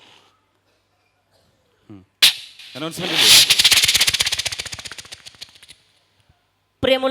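Loud firecracker or gunshot bursts go off on stage during a Malayalam comedy show, a sharp crack followed by a rapid crackling rattle lasting about three seconds, with brief speech before and a voice resuming after.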